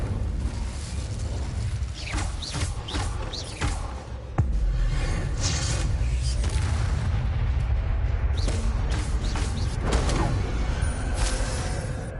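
In Hogwarts Legacy, the Bombarda spell sets off a heavy boom partway through, heard over a constant, dense layer of game sound with scattered creaks and impacts.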